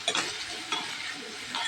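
Onions are stirred in a hot frying pan while cooking down for a boiled pork dish, giving a steady sizzle with a few scraping stir strokes over a short stretch.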